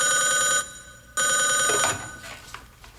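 A telephone rings loudly nearby in two bursts, a first short trill, a brief pause, then a longer ring, followed by quieter rustling.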